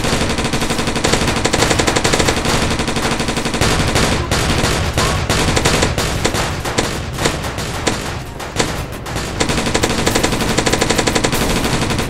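Rapid automatic gunfire from a Roblox zombie attack game, loud and continuous with dense bursts of shots and thuds, briefly thinning in the middle before resuming at full intensity, no talking over it.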